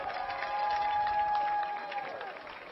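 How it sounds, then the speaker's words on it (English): Football stadium crowd at a high school homecoming halftime applauds the homecoming king and queen, a steady wash of clapping and cheering across the stands with a faint sustained tone riding over it. "one last round of applause for homecoming king Riley Harrison and homecoming queen"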